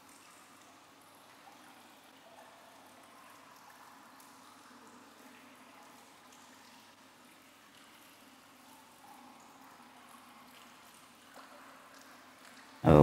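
Shower water running in a horror video game bathhouse, a faint continuous trickling hiss over a low hum, steady for the whole stretch, ending in a sudden loud burst.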